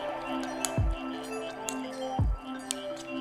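A spoon stirs rice ball filling made with mayonnaise and spring onion, giving two soft, close, wet squishing strokes with faint clinks in a quiet room.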